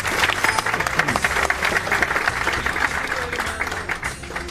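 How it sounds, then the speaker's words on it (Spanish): A church congregation in El Alto, Bolivia claps in sustained, dense applause for several seconds, steady and fairly close throughout. "Alabamos a Cristo con nuestras palmas, hermanos."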